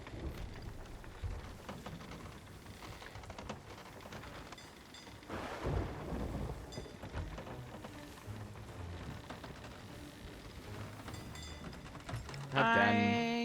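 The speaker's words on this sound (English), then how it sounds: "We got turned around by the storm." Thunderstorm at sea in the video game Sea of Thieves, steady rain and rumbling noise throughout with a few louder swells, ending in a brief tonal game sound.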